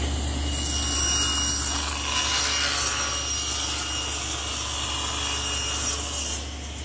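A table saw blade raised about 3/8 inch cuts a groove in wood for a blanket chest, a steady loud whine and rasp running the whole time, close by, with no talk.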